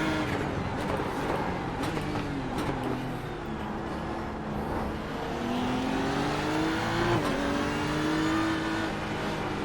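A race car engine in the iRacing sim on the Nürburgring, held at steady throttle, droning loud and continuous with rising and falling pitch sweeps as it works through gears, a faint pass of another car in the background.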